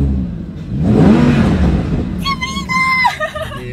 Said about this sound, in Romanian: hai să auzi și cum sună motorul la mașinuța asta